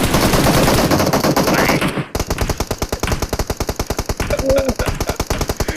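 Loud rapid automatic gunfire from PUBG Mobile, a dense burst followed by a long run of evenly spaced rattling shots, with brief voices underneath.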